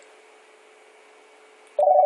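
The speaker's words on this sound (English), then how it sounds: "Oh great, getting a phone call." An incoming call on a phone in an office sounds abruptly near the end as a steady electronic ringing tone, loud and close, after a faint quiet background.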